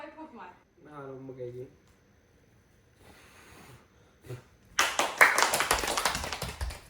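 A small group claps together at a birthday gathering, a burst of fast, close hand claps near the end following quieter voices and breathing.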